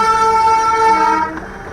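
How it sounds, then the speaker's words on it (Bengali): The Darjeeling toy train sounds its horn near Sonada: a single loud, steady, tonal blast that holds for over a second, then cuts off and fades into background rumble. "এই হচ্ছে টয় ট্রেন দার্জিলিং।"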